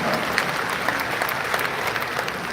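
Audience applause at the closing ceremony of the Rotary International Convention in Taipei, a steady dense patter of many hands clapping at moderate level throughout, with no voices over it.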